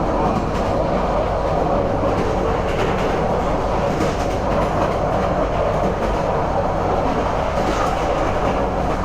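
A train winding into Chattogram railway station, its carriages rumbling and clattering steadily at close range with rhythmic wheel clicks and no one speaking.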